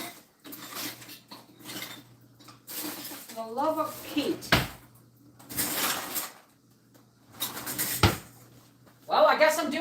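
Rummaging through a kitchen drawer for an apple slicer, with clattering utensils, sliding drawers and metallic clinks in bursts, close and fairly loud, while someone talks and mutters between the noises.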